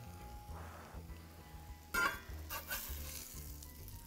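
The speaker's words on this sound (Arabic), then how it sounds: "خلاص الزيت عم بيسطب العجين عندي" Manakish dough topped with thyme fries in hot oil in a pan, giving a steady close sizzle with faint stirring scrapes and one brief louder crackling burst midway.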